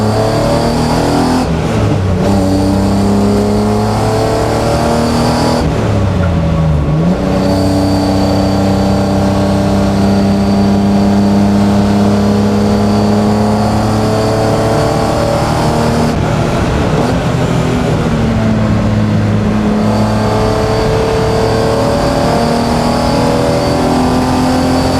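A garage-built BMW E36 accelerates hard on a race track, held in third gear. The engine note rises in a loud, continuous rev close to the microphone, with tone shifts as it climbs and brief lifts between pulls.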